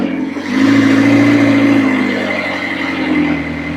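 A McLaren engine with an oil pressure fault is held at a slight, steady rev on a little throttle, producing a loud, close, sustained hum that rises briefly and then settles.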